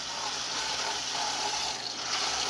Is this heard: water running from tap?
yes